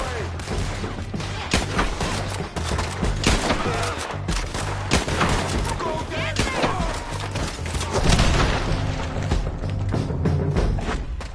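Gunfire in the video game Red Dead Redemption 2, rapid overlapping rifle and pistol shots in dense volleys with thuds, under shouted game dialogue throughout.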